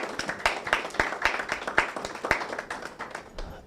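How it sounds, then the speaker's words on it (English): A small audience at a debate competition gives the teams a round of applause, sparse distinct claps in an uneven rhythm, moderately close and thinning out toward the end. "Let's give them both a round of applause."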